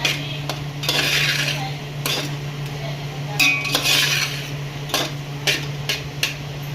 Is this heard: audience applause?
no